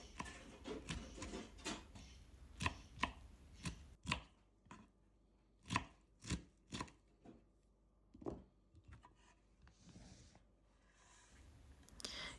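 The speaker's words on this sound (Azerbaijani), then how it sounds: "Kələmi də xırda-xırda doğrayıram." A knife chops cabbage finely for a beetroot salad. Close, crisp strokes fall in uneven bursts with short pauses between them, and no one talks.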